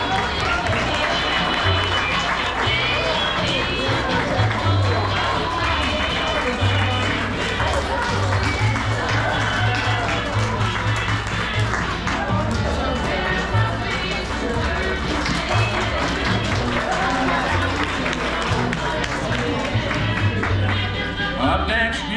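Audience at a school recycled-materials fashion show applauds and cheers steadily throughout, a dense crowd of clapping with voices and music mixed in underneath.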